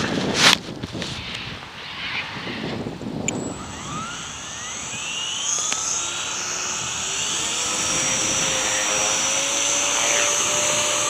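A Blade 130X RC helicopter flying on an 85% flat throttle curve, its small rotor and motor giving a steady high whine that rises and shifts in pitch as it maneuvers, after a brief clatter at the start.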